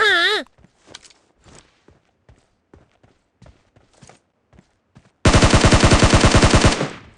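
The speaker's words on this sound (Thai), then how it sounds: "มีเสียงปืนมาจากทาง ฝั่งโกนะครับ" A rapid burst of automatic gunfire from a PUBG Mobile match erupts near the end, loud and dense, after a stretch of faint scattered footsteps and clicks; a brief tonal sound opens.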